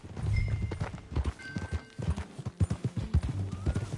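Horse hooves clip-clopping at a steady riding pace in the Red Dead video game, with crisp rhythmic hoofbeats, a brief whinny or snort and faint voices in the background.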